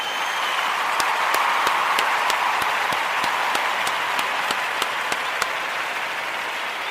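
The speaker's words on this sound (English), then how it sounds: "I want to give all of the Ujamaa babies a round of applause" Steady applause from an audience on the day of Ujamaa, a continuous even roar of clapping with one loud nearby clapper keeping a regular beat throughout.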